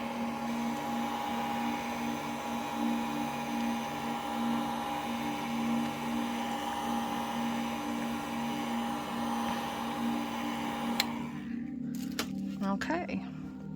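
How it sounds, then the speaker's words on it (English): A hair dryer blows steadily for about eleven seconds to dry a paint wash on a resin model horse casting, then cuts off abruptly, leaving light handling sounds. "I'm going to go ahead and hit it with the dryer to just give it a quick dry"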